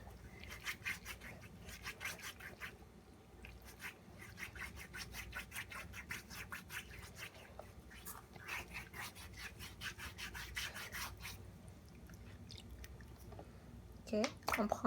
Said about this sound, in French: je préfère 1000 fois mieux cette pierre ponce